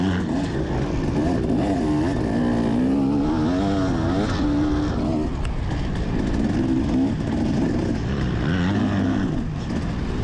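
Dirt bike motorcycles racing on a rutted hill-climb track, engines revving and climbing in pitch with shifting, loud and close, a continuous rising and falling whine over a rough rumble.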